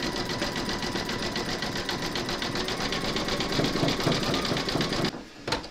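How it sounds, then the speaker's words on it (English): An embroidery machine runs a dense satin stitch around the edge of a skeleton applique arm, a steady rapid mechanical chatter held for about five seconds before it stops abruptly. "pop your hoop into your machine and stitch round number 7, and that's going to do the satin stitching around the edge of the arm"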